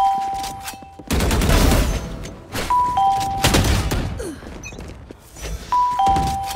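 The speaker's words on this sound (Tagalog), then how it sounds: "Teka, tatanggalin natin yung doorbell." A two-tone doorbell alert chimes repeatedly on a livestream, clear bright ding-dongs recurring several times amid loud bursts of game gunfire and noise.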